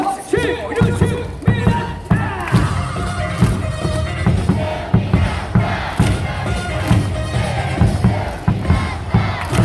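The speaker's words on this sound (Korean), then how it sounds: "박수 치고 박수 치고 유승민" A baseball stadium crowd at a Samsung vs Hanwha game claps and chants a player's name in steady rhythmic bursts, with loud repeated group shouts over a dense roar and a cheerleader's amplified voice leading the call.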